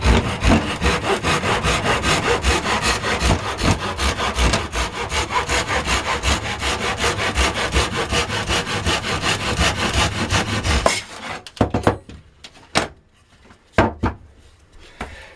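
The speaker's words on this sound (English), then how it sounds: "So I'll just cut about a 1 inch long piece of that tube." A handsaw cuts a one-inch length off a firework comet tube in steady, rapid back-and-forth strokes for about eleven seconds, then stops, leaving a few scattered clunks and taps nearby.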